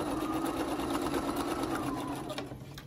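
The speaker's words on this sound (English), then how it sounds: "When I machine quilt my small projects like this, I'm not really, really picky on how I do them." A sewing machine stitches quilting lines through a small fabric panel bag, a close, steady rapid mechanical whir with a fast needle rhythm that runs throughout and eases slightly near the end.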